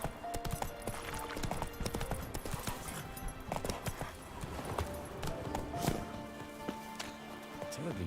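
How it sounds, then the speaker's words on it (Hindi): Horse hooves clip-clop at a steady walking rhythm in The Witcher 3, close and busy, with a whinny and some faint background voices. "तो किसका घोड़ा आ रहा है"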